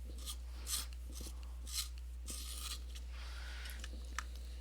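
A hand pencil sharpener shaving a Crimson Lake colored pencil gives several short, quiet raspy grinding bursts, close by in a hushed room with a low steady hum underneath.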